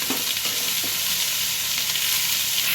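Snake gourd and onions fry in a pan with a loud, steady sizzle, and faint stirring scrapes come through now and then. No one speaks.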